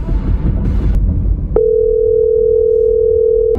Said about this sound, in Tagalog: Tawagan nga natin.